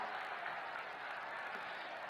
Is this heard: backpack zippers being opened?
no